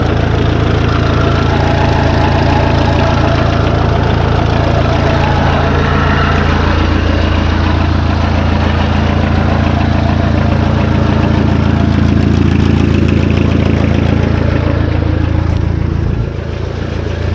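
A Pony tractor's diesel engine idles after an oil change, a loud steady close-up chugging rumble with a regular knocking pulse that runs unbroken for the whole stretch, dipping slightly near the end, with no talking.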